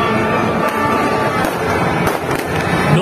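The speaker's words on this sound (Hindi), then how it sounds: "आतिशबाजी पहले ही शुरू हो गई हुई है" Fireworks burst during an Independence Day celebration in Sialkot, Pakistan: a few scattered sharp bangs and pops stand out against a constant noisy outdoor wash.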